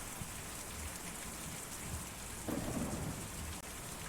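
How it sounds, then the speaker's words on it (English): Steady rain with rumbling thunder from the video game Kentucky Route Zero, a dense continuous downpour that briefly swells louder partway through, with no voices. "Ah, standing in the rain."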